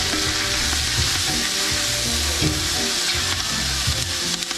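Leeks sautéing in oil for potato leek soup, a close, dense frying sizzle with scattered pops and the scrape of a stirring utensil, no voices.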